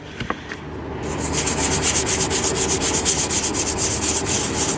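Old Napa body filler on a GMC K1500 truck being sanded by hand, a rhythmic scratchy rasp of steady back-and-forth strokes, close and alone after a few light knocks at the start.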